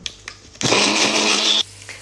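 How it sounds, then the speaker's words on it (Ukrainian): A kitchen blender whirs through fresh rosemary for an eggplant dish, one loud, steady burst of about a second, with quiet before and after. "З вами його будемо збивати блендером"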